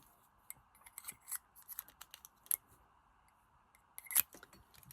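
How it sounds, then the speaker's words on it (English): Scissors trim a thin sliver off paper cardstock, giving a few quiet, crisp snips and rustles spaced irregularly, close to the microphone in an otherwise hushed room. "going to grab my scissors again and just take a sliver off there to get rid of that ink shadow"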